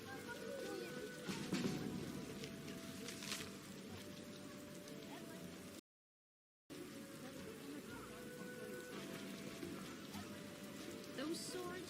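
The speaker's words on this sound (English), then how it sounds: "Worse, it's raining." Rain patters steadily in the video game The Witcher, a soft constant drizzle hitting surfaces at low volume, broken by a brief silent gap partway through, with faint ambient tones beneath.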